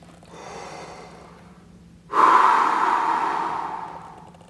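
A deep breath drawn in before playing the trombone: a soft inhale, a pause, then a loud, strong rush of air through the mouth that slowly fades, close and alone.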